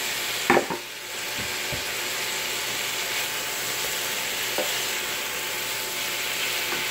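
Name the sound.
smoked kielbasa sausage added to sizzling chicken in pan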